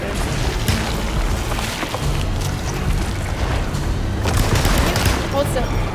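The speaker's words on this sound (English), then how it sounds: "Okay, I should use my shotgun." Shotgun blasts in the survival horror video game Alone in the Dark, several heavy booming shots spread across a continuous dense rumble of game noise, fairly loud and close.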